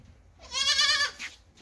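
A goat bleats once on a goat farm, a single loud, wavering call lasting under a second with a brief softer trailing sound after it, nearby and alone with no talking.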